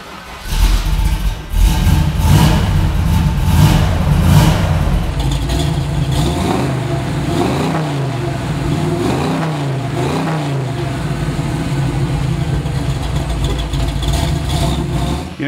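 A 1969 Chevrolet Camaro Z/28 V8 cranks over, fires up loud and close, then settles into a rough idle punctuated by several deep revving blips, with no voices over it.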